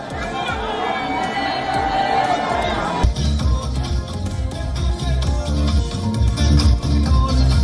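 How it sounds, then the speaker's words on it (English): Large crowd celebrating Holi, the Festival of Colours: dense, lively babble of many voices with shouts and cheering, the sound shifting abruptly partway through to a busier, bass-heavy mix of bustle and commotion. "people are celebrating the Festival of Colours, with crowds gathering in huge numbers"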